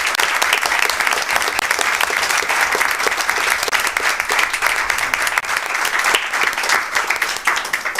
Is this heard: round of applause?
yes